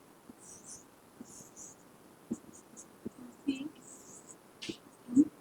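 Chalk or marker writing on a classroom board during a biology lesson, heard as faint scratchy strokes in short bursts, with quiet talk and soft bumps between them.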